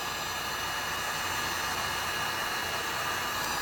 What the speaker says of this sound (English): I'm going to move it around a little with the heat gun.